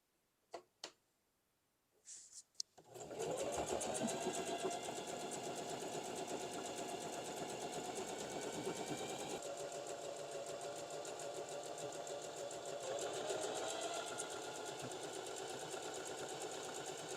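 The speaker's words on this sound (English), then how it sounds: "we're just gonna do a zigzag stitch all the way around just to close off this raw hem" Sewing machine running a zigzag stitch around a raw fabric hem: a couple of faint clicks first, then a steady, fast, close mechanical whir with rapid needle rhythm that continues without pause for the rest of the clip.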